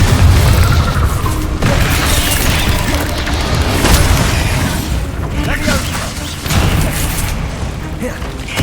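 A Confringo blasting spell in Hogwarts Legacy, loud booming explosive bursts repeating over several seconds amid a dense, busy game soundscape of crashes and rumble.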